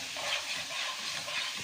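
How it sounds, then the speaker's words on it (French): Crème fraîche being stirred into carbonara pasta in a pan, a steady soft scraping and wet sizzling hiss that runs unbroken and close for the whole moment. "Je remue bien."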